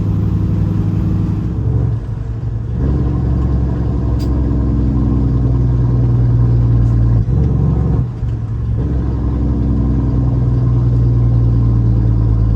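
Volvo semi truck climbing a highway hill, its engine droning loud and steady with a deep rumble, pulling under load with turbo boost and a brief dip in the note partway through.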